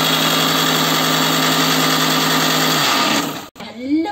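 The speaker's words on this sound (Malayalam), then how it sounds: "അരി ഒന്ന് മിക്സിയിൽ ഒന്ന് പൊടിച്ചെടുക്കാം" A kitchen mixer grinder whirs loudly and steadily as it grinds raw rice into powder, then winds down and stops near the end, leaving a brief quiet gap before faint handling sounds.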